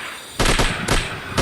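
Loud, close bursts of gunfire in a Bigfoot hunting video game: three or four rapid blasts in quick succession after a brief quiet start, with no talking.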